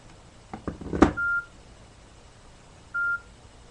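Two short, clear telephone dialing tones sound about one and a half seconds apart, preceded by a brief clatter of handset clicks, with no talking.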